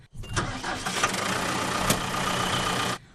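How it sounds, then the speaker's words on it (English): A farm tractor engine runs steadily and loudly nearby during a pumpkin harvest on a 35-acre Myrtleford property, a continuous broad rumble with a few clunks and no speech. "Pumpkin farmer Peter Antonello will spend the next 20 days in his tractor,"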